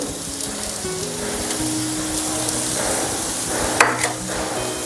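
Paneer sizzles and fries in a pan while making veg paneer uthappam, a steady close crackling hiss throughout with a brief louder spatter near the end.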